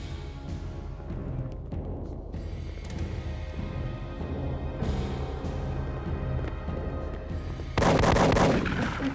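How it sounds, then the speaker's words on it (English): A rumbling, continuous background with dull distant bursts, then a sudden louder blast of gunfire near the end. "Gunfire."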